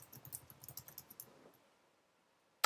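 Quick clattering keystrokes on a computer keyboard tap out an uneven burst for about a second and a half, then stop, followed after a short quiet by one sharp click.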